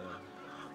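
Dominant CZ breed chickens at a Cebu breeder's farm cluck softly in a brief, faint stretch of fowl murmuring with a steady background din.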